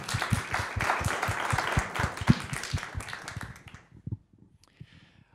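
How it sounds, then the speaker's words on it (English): At a city panel discussion, an audience gives a round of applause that stays dense and steady, then thins into a few scattered claps and fades out. "It's a goodbye and a big clap for you."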